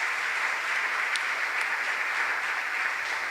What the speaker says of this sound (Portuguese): Aplauda, pelo amor de Deus.